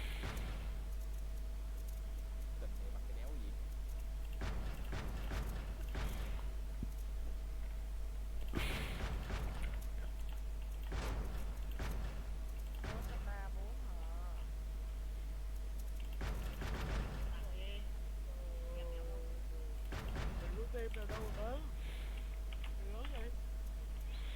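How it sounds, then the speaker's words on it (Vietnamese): Bursts of video game gunfire from guns being tested break out in irregular clusters, mixed with keyboard clicks and a steady low hum. "Bắn team này chắc là test súng tí"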